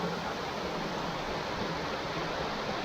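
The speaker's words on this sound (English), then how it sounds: "Here under the bridge is pretty waterfall." Waterfall beneath a bridge in a mountain village in Hsinchu, heard as a steady, broad rushing roar of falling water, close and continuous with no voices.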